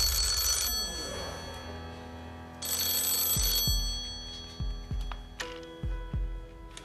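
A telephone rings on the Deal or No Deal game show as the banker calls, two long bright electronic trills separated by a pause, followed by a few sharp ticking clicks and a sustained tone, loud and close with no talk.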